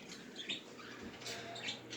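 A pet bird chirping during a tantrum, with a few faint, high, thin tweets scattered over quiet indoor background.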